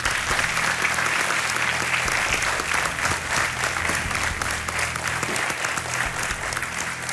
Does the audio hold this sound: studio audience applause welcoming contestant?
yes